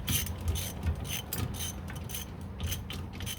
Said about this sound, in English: I'm just going to get started with the ratchet